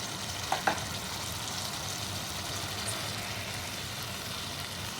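Chicken sizzling and frying in a pan with masala and curd, a steady broad hiss throughout with a couple of brief stirring clinks near the start, no talking.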